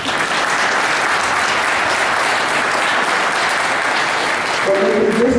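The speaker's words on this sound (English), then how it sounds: "Let's give them a round of applause." Continuous, even applause from a gathered crowd at a World Down Syndrome Day celebration, holding steady for several seconds before a voice begins speaking at the end.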